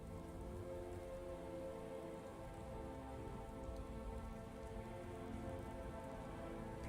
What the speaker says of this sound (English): Can you guys hear the rain and thunder plus the Skyrim music in the background?